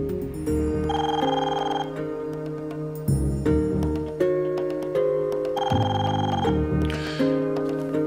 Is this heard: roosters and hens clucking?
no